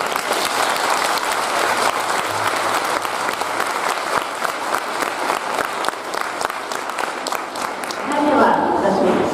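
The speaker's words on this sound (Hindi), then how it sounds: "ऐसी सुविख्यात लेखिका के लिए ताली तो फिर से बनती है।" A hall audience at a literary award ceremony breaks into loud, sustained applause for an acclaimed writer. The clapping is close and thick for about nine seconds, with a voice rising faintly near the end.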